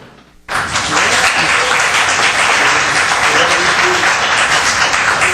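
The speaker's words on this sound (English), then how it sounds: "Everyone applaud who's here?" Loud, sustained applause from a crowd at a Glendale City Council meeting bursts in after a brief quiet moment and continues steadily throughout.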